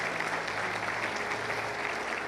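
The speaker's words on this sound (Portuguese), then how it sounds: "pode aplaudir o Senhor" A church congregation claps steadily and fairly loudly, a continuous wash of applause with no pause.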